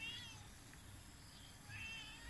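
A cat outdoors near a banana planting meows twice, faint and somewhat distant, a short cry at the start and another near the end over low outdoor background noise.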